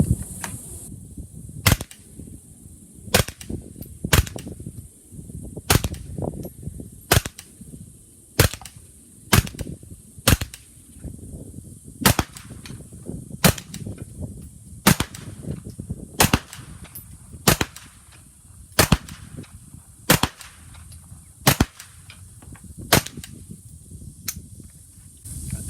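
A CMMG Guard radial delayed blowback gun fed from a Glock magazine fires about twenty sharp, loud single shots at a steady, unhurried pace, with faint handling noise between shots.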